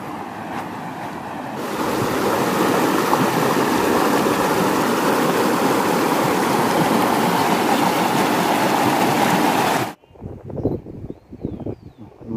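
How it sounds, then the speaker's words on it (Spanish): Water pours between rocks at a dam in La Huertita, San Luis, a loud continuous rushing wash close by that cuts off suddenly, then faint talk and quieter water follow. "acá se forma una especie de cascada, lo mismo que se encajona el agua entre las piedras, forma una linda cascadita"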